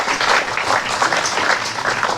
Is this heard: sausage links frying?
no